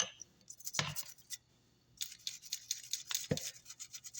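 A paint spray gun, last used for epoxy, is scrubbed with a brush and lacquer thinner in short, quiet bursts of bristle scratching separated by pauses, close and faint, with no talking.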